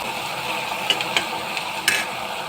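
Onion, curry leaves, ginger and garlic sauté in a pan, giving a steady close sizzle punctuated by a few sharp clicks of a spoon scraping and stirring.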